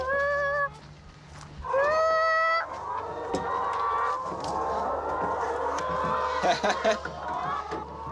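Hens on a farm with hundreds of chickens: loud, close, drawn-out calls, then a dense stretch of overlapping clucking from the flock, with people talking over it.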